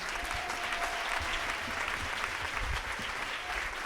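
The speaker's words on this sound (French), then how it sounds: "Et acclame le Seigneur aussi pour la vie de groupe musical." A church congregation applauds in praise of the Lord, a dense and steady clapping that holds at an even level throughout.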